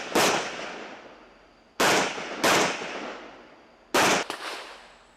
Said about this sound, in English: That was an A-zone target I was shooting over there.